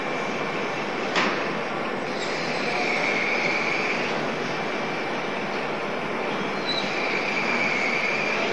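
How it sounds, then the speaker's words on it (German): A drill bores into Plexiglas in a plastics processing plant, producing a continuous grinding whir with a high, faintly squealing tone that rises and fades a few times, with no talk. "Oder durch Bohren."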